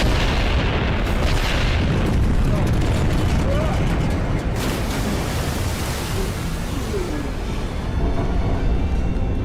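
An early detonation in a shark movie erupts as a dense, roaring blast that rumbles steadily for several seconds, loud and unbroken, with deep booming rolling beneath a wash of broadband noise.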